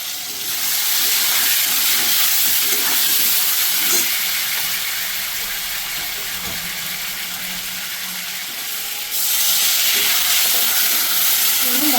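Spice paste fried with gathi kochu (taro) in a pan gives a loud, steady hiss that runs almost unbroken, dipping slightly midway and swelling again near the end, with faint clinks underneath.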